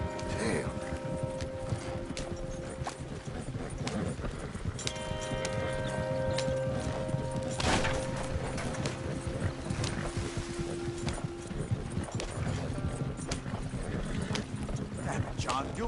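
Horses gallop in Red Dead Redemption 2, a continuous rapid clip-clop of hooves with rattling mechanisms and occasional voices over the top.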